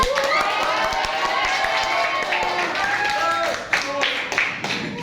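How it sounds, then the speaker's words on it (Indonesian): Classroom applause at an Indonesian university history-education teaching session, a steady dense patter of many hands clapping for about five seconds, with voices calling out over it before it thins toward the end. "Tepuk tangan."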